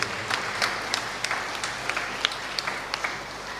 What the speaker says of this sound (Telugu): అందరూ గట్టిగా చప్పట్లు కొట్టి దేవుని స్తుతిద్దామా